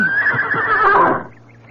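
A horse neighing loudly and close, a single long whinny that rises and falls before fading into quiet background.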